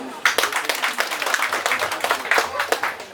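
Audience applause at a village focus group discussion in Juwana subdistrict, a steady patter of many hands clapping for about three seconds, fairly close and lively, with no voices over it.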